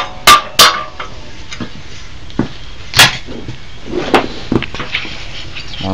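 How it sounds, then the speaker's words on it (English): Sharp metallic knocks of a hammer working loose the fan on a damaged 327 engine, a few loud isolated strikes with lighter clinks and taps in between, close by in a quiet garage. "use the wooden end of the hammer."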